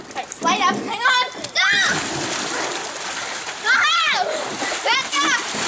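A backyard water jump splashes loudly with repeated sloshing bursts up close, while children's voices shout and talk over the splashes.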